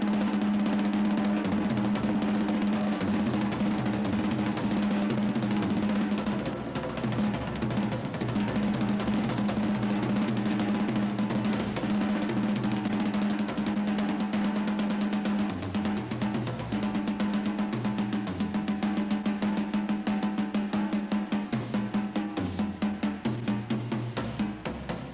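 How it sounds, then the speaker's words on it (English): Paradiddles played around a drum set in a lesson, a steady run of quick sticking strokes with a ringing tonal drone underneath, moderately loud and continuous with no talking. "You can actually play paradiddles on the drum set"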